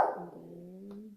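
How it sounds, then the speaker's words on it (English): A single dog bark sounds from outside, a sharp onset that trails into a sustained whine-like tone, moderately loud and alone, with no talking. "there's a dog outside"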